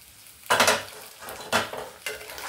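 Raw banana and potato fry cooks in a pan, with three distinct bursts of close scraping and stirring over a soft, steady sizzle and no talking.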